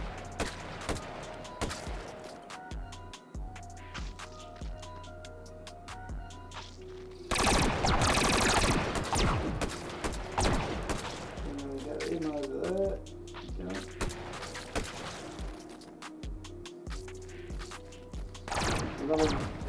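Gunfire in the H3VR virtual-reality shooter plays in a snow-globe arena, with scattered shots and a dense burst of rapid fire in the middle, mixed with game sounds while someone talks over much of it.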